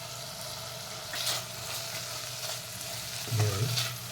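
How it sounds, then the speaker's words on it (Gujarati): Chopped potatoes frying in a pan for masala khichdi, a steady close sizzle with a couple of brief louder scrapes or stirs near the middle and end. "હવે આપણે થોડા સમારેલા બટાકા આપણે એડ કરીશું"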